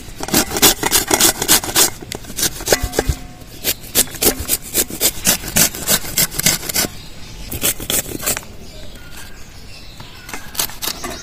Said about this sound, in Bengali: আমটা এইভাবে গ্রেট করে নিয়েছি।